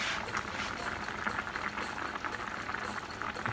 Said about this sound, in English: once it starts bubbling again